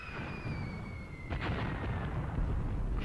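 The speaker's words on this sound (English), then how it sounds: "120mm mortars here and 82mm mortars back there." Booming 120mm and 82mm mortar fire in the Graviteam Tactics war game, a dense rumbling blast with a whistling tone fading away before a further heavy concussion.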